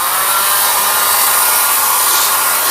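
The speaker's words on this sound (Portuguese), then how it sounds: "Estamos com o secador ligado" A hair dryer runs steadily on power from two 12.8 V LiFePO4 battery packs wired in series, a loud, constant whooshing roar with no change in pitch and no talk over it.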